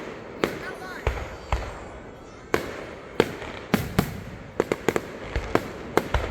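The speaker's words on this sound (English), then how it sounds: "You ever seen fireworks like this?" Fireworks bursting outdoors in Virginia, a series of sharp booming cracks at uneven intervals, some near and loud, others quicker and clustered, with crackling between.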